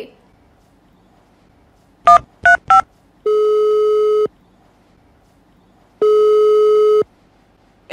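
A phone call goes through: three quick dial beeps, then two long, loud, evenly spaced busy-tone pulses with silence between them.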